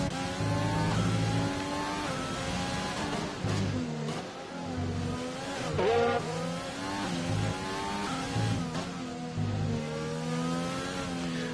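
Vintage Grand Prix race cars in the Grand Prix Legends game, including an Alfa Romeo and a Williams, scream through a corner at Hungary, with several engines rising and falling in pitch as they brake and accelerate, loud and close.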